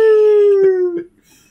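A human voice imitates a dingo howl: a single sustained, slowly falling tonal wail lasting about a second, loud and close, breaking off into brief breathy trailing sounds.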